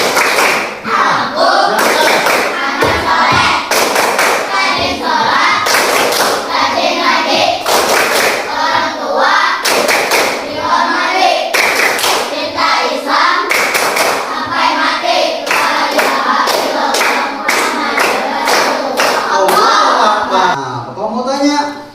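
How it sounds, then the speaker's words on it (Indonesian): Schoolchildren in a classroom perform a rhythmic clapping chant, sharp group claps in repeated patterns interleaved with loud sung or chanted voices throughout. "Tepuk anak soleh."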